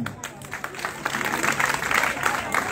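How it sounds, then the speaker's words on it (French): Audience applause at a literary festival stop in Samatiguila, Côte d'Ivoire: a steady wash of clapping from a crowd, building slightly and holding for a few seconds, with some voices mixed in. "Et ça, il faut l'applaudir."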